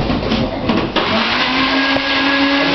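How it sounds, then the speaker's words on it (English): Electric blender running steadily while blending a fruit drink with juice and mint, a loud continuous whirring motor drone with a slight shift in pitch partway through and no voices. "You just put it onto the blender."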